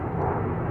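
Steady broadband roar of an airplane at the Dallas Love Field aircraft observation area, a continuous loud engine rumble with no break across the brief moment.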